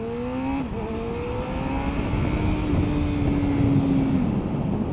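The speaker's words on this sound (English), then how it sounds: "the 4-cylinder is quite raspy and very jazzy throughout the rev range" A 2021 Honda CB1000R four-cylinder litre bike revs and accelerates, a raspy engine note sweeping up, dipping briefly at a gear change, then climbing steadily again under heavy wind noise from riding.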